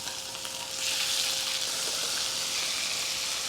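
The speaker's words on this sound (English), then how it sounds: "Medium-high heat, oil in the pan, and we're gonna sear these off." Catfish pieces sear in hot oil in a pan over medium-high heat, giving a steady, close, loud sizzle that swells after the first second and holds evenly, with no talking.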